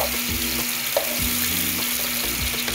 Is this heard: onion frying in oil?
yes